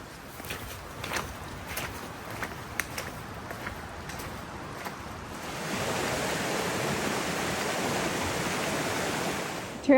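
Footsteps crunch along a wet hiking trail in the Zealand area, and then a steady rush of flowing water takes over at a stream crossing, close and continuous.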